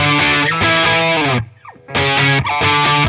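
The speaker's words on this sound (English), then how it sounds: "experiment with the distortion into reverb and the reverb into distortion" Heavily distorted electric guitar chords through a Walrus Audio Melee distortion-into-reverb pedal ring out, drop to a short quiet gap with a fading wisp of echo, then crash back in loud and saturated.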